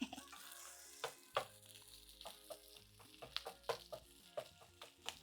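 Sausages fry in a non-stick pan with a steady close sizzle, broken by scattered crackles and pops and a few soft clicks or scrapes throughout.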